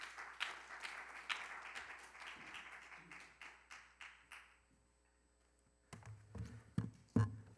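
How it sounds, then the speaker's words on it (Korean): An audience at the National Assembly's 2022 youth speech contest claps to welcome lawmaker Kim Han-gyu: scattered applause that thins and fades over several seconds into near silence, then a few low thumps and handling knocks. "박수로 맞이해 주십시오"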